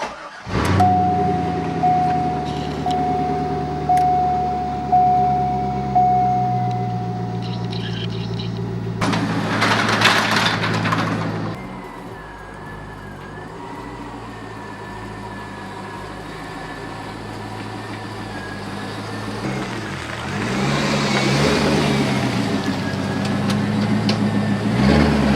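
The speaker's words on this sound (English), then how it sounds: "we're going to pull the car out of the garage, flip it around" A car is pulled out of a garage and turned around. Its engine hums with rhythmic pulsing at first, followed by a brief loud burst, then a quieter running drone with shifting revs, while a voice talks over it.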